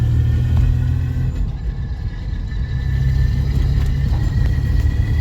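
A Holden Commodore with a rebuilt gearbox cruising in fourth gear, a steady low engine drone with road rumble, close and constant with no talk.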